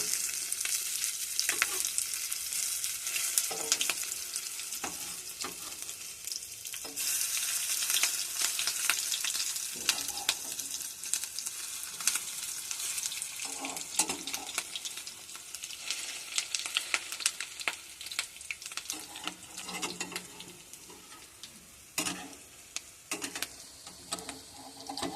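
Fish roe fritters frying in hot oil, a dense continuous sizzle and crackle, close and steady throughout, with no voices.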